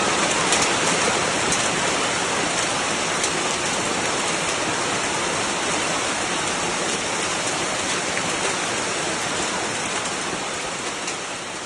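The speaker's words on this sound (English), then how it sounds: "Small and large hailstones pelted the city" Heavy hail and downpour pelting a city with bustling streets, hutongs and ring roads, stones from pea-sized pellets to ping-pong-ball chunks; a dense, loud, steady roar of pounding precipitation with no voices, easing only slightly at the end.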